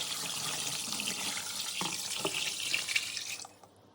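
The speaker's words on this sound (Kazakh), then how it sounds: "Үстінен дайын тұздықты құямын." Brine pours over herring layered in a container, a steady close splashing flow that trails off and stops near the end, with no voices.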